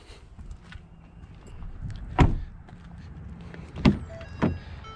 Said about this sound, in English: that front glass will go up and slide back into that track and give you a convertible feels